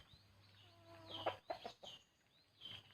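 Backyard chickens, kept alongside ducks, cluck and murmur close by in short, scattered bursts, with faint background rustling and a low hum.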